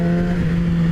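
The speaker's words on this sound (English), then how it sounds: "The bike sounds like it revs hot." Engine of a 2017 Yamaha R6 sport motorcycle held at steady high revs while riding uphill, a loud continuous drone with a strong sustained tone and no voices.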